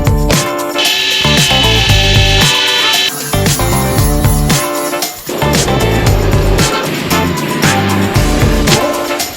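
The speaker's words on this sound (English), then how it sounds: "So I'm having trouble getting these screws out." A power tool whirs in loud, sustained bursts while screws are driven out of a 1958 MGA Coupe, with brief pauses and changes in pitch as the bit grinds and catches, heard close and without speech.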